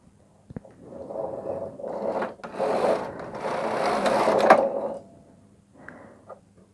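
Knitting machine running rows of a tension swatch, the carriage sliding across the needle bed in several long rasping, whirring passes with short pauses and a clack between them, close and fairly loud.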